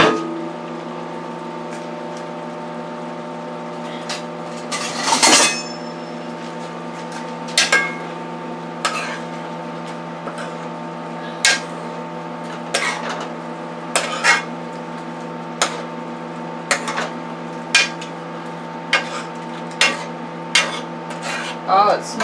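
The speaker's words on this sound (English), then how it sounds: "We're going to add the shrimp and the sausage, Jimmy Dean sausage," Shrimp and Jimmy Dean sausage go into a pot of boiling tomato sauce, a loud scrape of the additions followed by a steady series of sharp spoon clinks and scrapes against the pot over a constant background hum.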